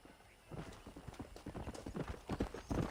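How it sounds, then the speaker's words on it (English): Horse hooves clip-clop steadily in Red Dead Redemption, a run of quick rhythmic footfalls that grows louder and closer over a few seconds, with a faint whinny and no talk. "Let's get our horse real quick."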